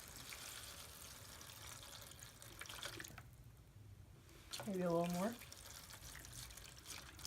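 Water is poured from a tap or jug into the bottom of a seedling tray indoors, a soft trickle and splash that rises briefly before easing off, with a short spoken remark over it.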